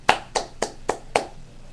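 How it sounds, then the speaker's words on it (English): A single pair of hands claps five times in an even, steady rhythm. The claps are close and distinct, with brief quiet between them. "we're going to give you a round of applause for that"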